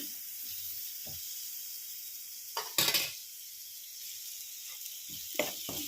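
Raw banana pieces frying in a pan give a steady, broad sizzle throughout, broken by a few louder bursts of stirring and pan clatter near the middle and end.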